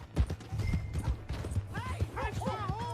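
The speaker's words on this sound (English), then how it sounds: "Hey, that's my horse!" Horse hooves clip-clop in a steady galloping rhythm in Red Dead Redemption 2, with a horse whinnying toward the end and voices speaking over the hoofbeats.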